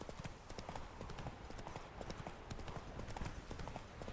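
Geralt's horse Roach gallops at full pelt through the hills of Novigrad in The Witcher 3: Wild Hunt, hooves clip-clopping in a fast, steady, close rhythm throughout.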